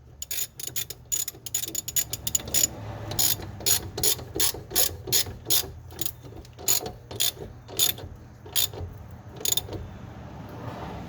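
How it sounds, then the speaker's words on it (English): A hand ratchet tightening a rear BC Racing coilover bolt on a 1994 Mazda RX-7 FD3S, rapid clicking bursts settling into a steady rhythm of regular clicks, close and distinct. "holding this and this at the same time while I start ratcheting it"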